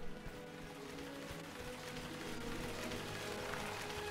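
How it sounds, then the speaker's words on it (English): Steady rain from a raining cloud in the LEGO Harry Potter video game, a continuous hiss of falling drops at even loudness with no talk. "this is raining cloud"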